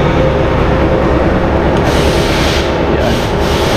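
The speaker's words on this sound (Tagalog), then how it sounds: "tinataliman po namin isa-isa naming sinasalong sa makina" A loud, continuous grinding and rasping of a machine sharpening scissors, steady and close throughout.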